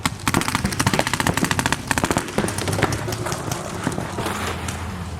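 Rapid, loud gunshots crackle in quick succession during a firearms training drill, a dense near volley that thins into scattered pops toward the end.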